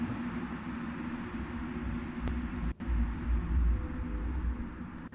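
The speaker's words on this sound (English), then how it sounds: "This is a subway noise." Subway train noise plays as a steady, muffled low rumble and hiss, fairly faint and unbroken, with a brief dropout and a slight swell toward the end.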